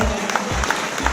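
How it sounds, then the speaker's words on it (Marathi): Audience applause at a retirement ceremony: a steady wash of clapping from a crowd, close and fairly loud, holding evenly through the moment. "याच्यानंतरचा सन्मान सर्वांनी टाळ्यांचा सन्मान करायचा आहे।"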